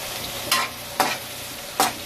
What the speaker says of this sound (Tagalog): Igisa natin yung luya. Yan. Bawang sibuyas.